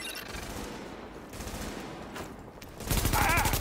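Gunfire from The Division video game: a continuous rattle of automatic shots that swells into a louder, denser burst near the end, with game voices speaking over it.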